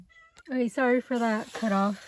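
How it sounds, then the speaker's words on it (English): A domestic cat meows near the recording, giving three or four drawn-out, rising-and-falling calls in quick succession while a person speaks. "That's my cat."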